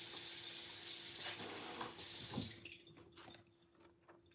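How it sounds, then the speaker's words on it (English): Tap water runs hard into a kitchen sink as produce is rinsed, a loud broadband rush that cuts off partway, leaving drips, clinks and light handling sounds. "So now I'm going to put these into the sink because they need to be rinsed off."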